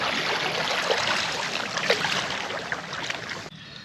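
Neris Smart Mini Light hybrid foldable inflatable kayak paddled on water, a steady wash of splashing and rushing water with soft wind noise, close and continuous, cutting off abruptly near the end.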